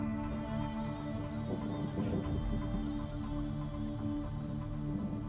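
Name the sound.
rain sound from a Foundry virtual tabletop music playlist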